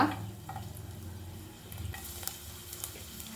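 Garlic frying in hot oil for a chicken pepper chilli, a steady close sizzle with stirring scrapes from a pan, no voices.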